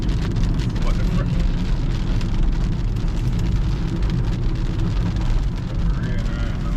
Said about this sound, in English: Rain right now.